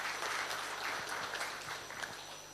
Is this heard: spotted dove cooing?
no